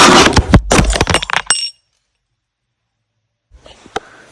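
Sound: ceramic mug breaking

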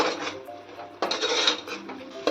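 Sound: biryani masala being sautéed and stirred in oil

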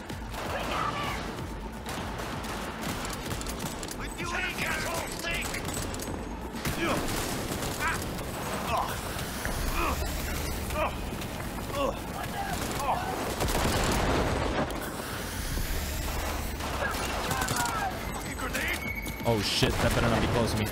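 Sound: grenade explosion and gunfire in Cyberpunk 2077 video game

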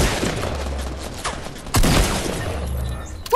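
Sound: shotgun gunfire in the video game Fortnite

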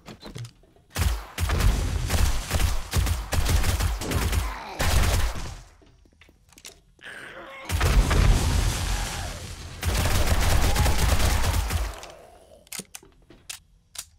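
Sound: gunfire from 7 Days To Die video game

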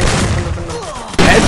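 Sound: gunshot headshot in a video game

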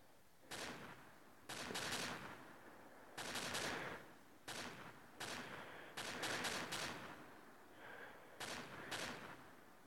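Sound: machine gun firing from Minecraft PE weapon mod, video game

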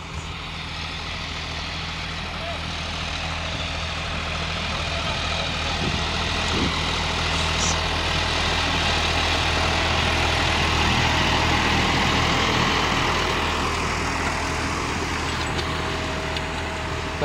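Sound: John Deere 5405 tractor engine running with harrow

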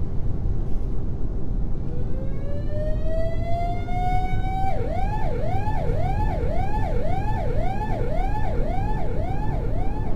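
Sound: ambulance siren in Euro Truck Simulator 2 video game

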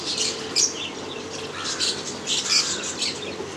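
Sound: pigeons calling

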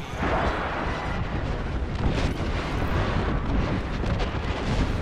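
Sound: bombing explosions in a video game

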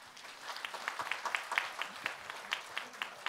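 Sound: audience applause

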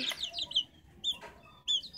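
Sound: chicks peeping and clucking

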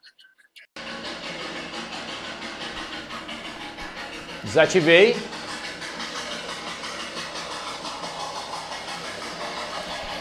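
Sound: recorded steam locomotive train passing

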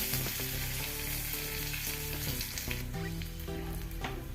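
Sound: garlic and curry leaves sizzling in oil

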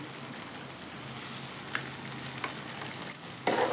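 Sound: asafoetida powder sizzling in hot oil

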